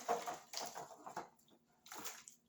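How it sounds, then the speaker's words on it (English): Wet cooked greens with kale slosh and slide out of an Instant Pot into an aluminum pan in a few soft, uneven pours, landing with quiet splattering plops. "I'm just going to pour everything in."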